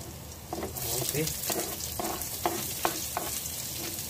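Onion and ginger sizzle steadily in a hot pan while being stirred, a continuous close frying hiss with a few soft scraping clinks, as a voice speaks briefly over it during home cooking of papaitan.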